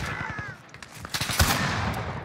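Gunshots in a tactical shooter video game, several sharp cracks spread across the moment with one louder close shot, over a busy game soundscape.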